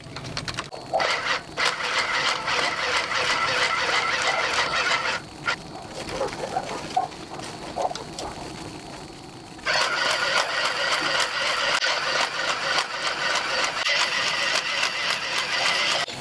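Sewing machine stitching straps on a piece of gear left in place, running in steady mechanical bursts of rapid needle clatter with a short pause midway, close and fairly loud.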